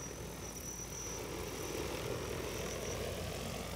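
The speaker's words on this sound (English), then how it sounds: "The drone has very quick acceleration." An EAVision J100 agricultural drone flies with a steady, even propeller whir, a continuous moderate drone of rotors holding level without a break.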